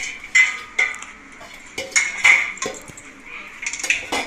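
A spoon stirs rava laddu mixture with cashews and raisins in a metal pan, producing sharp, irregular clinks and scrapes against the pan, close and fairly loud, with quiet gaps between strokes.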